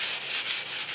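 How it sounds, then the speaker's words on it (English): Steady scratchy sanding of a wooden headboard, a sponge block rubbed back and forth in even strokes, close and continuous with no voices. "I'm gonna start with my sanding block. I'm gonna start sanding it down."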